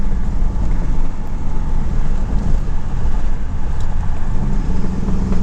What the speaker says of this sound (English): Downshifted there when I put it into second, though.